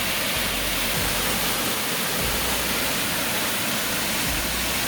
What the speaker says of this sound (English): There's raging water there.